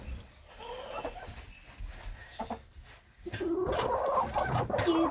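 A hen pecking around a coop gives soft, close clucks and murmuring calls over background rustling and scratching, growing a little busier toward the end.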